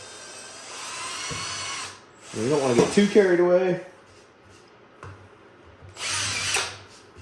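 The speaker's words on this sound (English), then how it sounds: "So I'm just going to take right in the front here, I'm going to drill." A power drill whirs in two short bursts at the start and end, drilling into a rifle stock, with someone speaking briefly between them.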